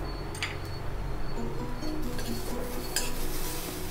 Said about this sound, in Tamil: பாருங்க, வாழைத்தண்டு நல்ல ரோஸ்ட் ஆகிட்டுருக்கு.